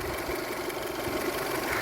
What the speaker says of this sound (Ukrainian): Тут, в підкапотному просторі ми завели двигун, також ми слухаємо